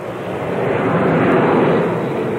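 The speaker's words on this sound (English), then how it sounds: "The plane carrying the former president's body is now taken to the skies." The plane carrying former President Ronald Reagan's body takes off in June 2004, a loud, steady, broad jet-engine roar that swells slightly and holds throughout, with no talking.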